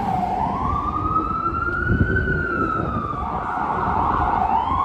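A fire department siren wails with a rising and falling tone, fairly distant, over steady traffic rumble and street noise in New York City's SoHo area.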